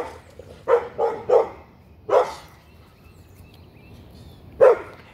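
Dogs barking outdoors at a middle distance, a quick run of three barks, then one more and a final bark after a pause, over a low steady background hum.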